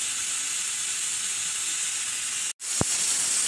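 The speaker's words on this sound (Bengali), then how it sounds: "মাছ ভাজার জন্য কিছু তেল দিয়ে দিলাম" Cooking oil heats in a wok for frying fish, producing a steady close hiss with a brief cut-off and a short tap near the end.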